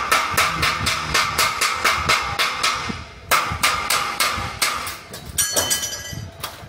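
Metalwork on a building site, with welding and square steel tube cutting under way: a loud run of sharp, regular metallic strikes and clanks, a brief pause, then more rapid impacts with ringing metal, close by and busy.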